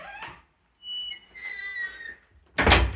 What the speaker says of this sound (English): if I show you when I shut the door